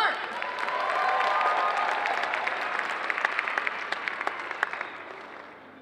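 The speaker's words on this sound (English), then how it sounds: "Another round of applause for Christina Dark." A convention audience applauds a cosplayer at a comic con cosplay contest, a dense, steady wash of many hands clapping that swells early, holds, then thins toward the end with a few sharper claps standing out.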